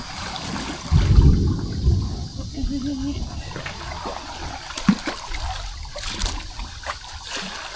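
Water sloshes and trickles while a canoe is rinsed out on Florida's Peace River, with a louder splash early, then irregular dribbling and gurgling, and voices murmuring nearby.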